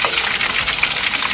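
Cold water gushing into a hot pan of leftover spring rolls being fried, a loud continuous hiss and sizzle of steam and splashing across the whole moment, with no talk.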